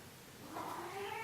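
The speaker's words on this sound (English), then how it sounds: "Oh my god, my cats are fighting." House cats fighting indoors, a rising, drawn-out caterwaul that swells from faint to fairly clear, heard somewhat distant in a quiet room with no talking.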